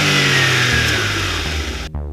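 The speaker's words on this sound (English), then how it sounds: "With the little engine fizzing and whistling away behind me" Smart Roadster's turbocharged 698cc three-cylinder engine revving hard with a whistling, fizzing tone, loud and close, then cutting off abruptly near the end.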